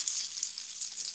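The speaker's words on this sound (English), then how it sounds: "And I am almost ready for my steak. Hope you hear that sizzling." Steak frying in a hot pan gives a soft, continuous crackling sizzle, fairly quiet and steady, with no talk over it.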